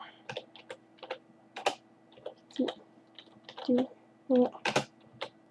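Typing on a computer keyboard, close and fairly loud, in irregular clusters of sharp clicks and key taps with short pauses between them, while a voice murmurs briefly underneath.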